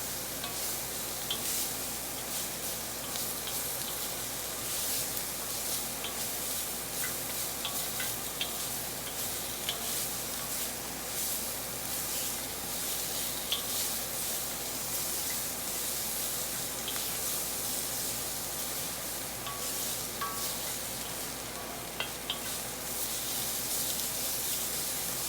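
Vegetables stir-frying in a hot pan for an Asian-style dish, a loud continuous sizzle with faint clinks of stirring, steady throughout.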